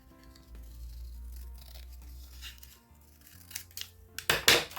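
Scissors snip through a paper seed packet, trimming off its green bottom edge; a low hum fades out before a few quick, close crinkling cuts and a sharp tearing burst near the end.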